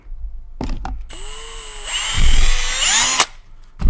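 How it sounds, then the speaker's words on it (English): A power drill bores a hole in a hacked mag mount, whirring in one sustained, loud burst that rises in pitch as it bites, framed by a few close knocks before and after. "Let's drill it."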